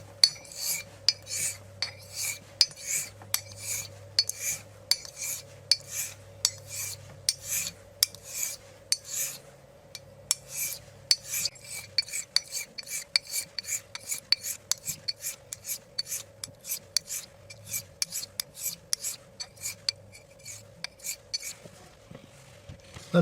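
Thiers-Issard 6/8" 889 straight razor burnished on a convex Arkansas honing stone, dozens of crisp rhythmic strokes in a steady back-and-forth train, quickening and tightening toward the end, close and clear over a faint low hum.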